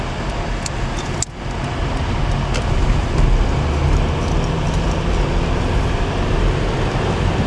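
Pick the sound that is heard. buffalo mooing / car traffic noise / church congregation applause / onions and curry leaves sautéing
car traffic noise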